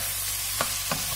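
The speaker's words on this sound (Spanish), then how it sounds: "Mirad cómo ya se está friendo la verdurita." Chopped vegetables sizzle and crackle steadily in a frying pan for a vegan green rice, with two brief soft scrapes of stirring cutting through the continuous hiss.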